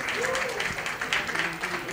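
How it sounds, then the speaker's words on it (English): Brief applause from an audience at a book launch event, a soft wash of clapping with voices talking over it. "Big round of applause for Karan and Mira."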